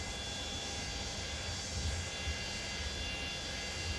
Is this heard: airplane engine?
yes